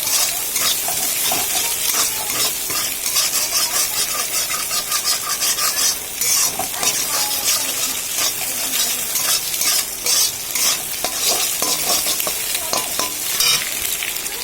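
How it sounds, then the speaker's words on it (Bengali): Eggs scrambled in hot oil in a pan with a pinch of salt, a steady loud sizzle under continuous scraping stirring strokes, close by and with no talking. "ডিমের মধ্যে একটু নুন দিয়ে দিলাম, আর ডিমগুলোর ভুজিয়া বানিয়ে নেবো সুন্দর করে।"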